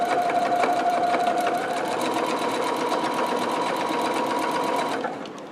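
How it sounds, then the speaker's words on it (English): A sewing machine stitches a thick pocket with a brief back tack, running as a steady close mechanical whir with rapid needle pulses that continues for several seconds and then stops abruptly, with no talking. "So I'm going to go forward just a few stitches, back tack"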